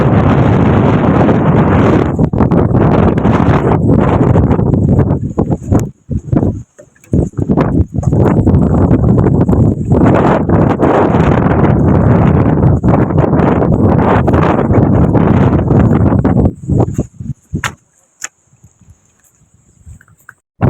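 Strong wind buffets the microphone on a rooftop, loud roaring gusts that cut out in brief lulls and then return, finally dying to near quiet, with no voices.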